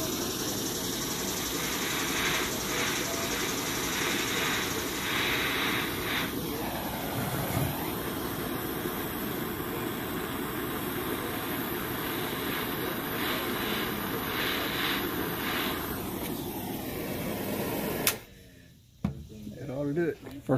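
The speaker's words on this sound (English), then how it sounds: "we're going to heat up this bung." A torch flame heats the bung of a lantern valve, giving a steady, continuous roar for about eighteen seconds before it shuts off, leaving a few faint clinks and rustles.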